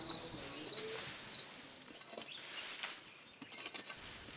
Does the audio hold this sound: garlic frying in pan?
no